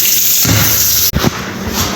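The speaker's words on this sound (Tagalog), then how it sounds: "Lagyan natin ng tubig." Water is poured from a tap into a cooking pot of eggplant being prepared for tortang talong, a steady splashing gush that breaks off briefly, then resumes with a lighter trickle and small splashes.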